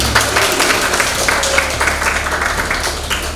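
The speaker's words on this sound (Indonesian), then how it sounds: "Itu tepuk tangan kita semua." Applause from an audience of vocational high school (SMK) students, a steady wash of many hands clapping that stays fairly loud and dense throughout.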